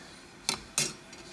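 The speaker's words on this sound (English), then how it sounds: "I just keep taking my spoon and stirring it as so" Spoon stirring a pot of homebrewed porter, two quick close metallic scrapes and clinks, with a fainter third knock after them over a low steady background.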